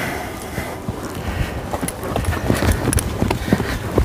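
A young horse named Sereno, slightly footsore in his first set of shoes, trots with hooves clip-clopping in a steady rhythm amid wind noise and a faint voice.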